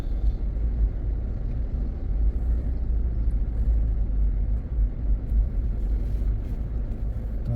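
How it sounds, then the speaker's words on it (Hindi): A car engine idles steadily while stopped at a highway toll booth on a drive toward Rishikesh, a low continuous rumble close by with no talk. "टोल पे गाड़ी रुक गई है आगे।"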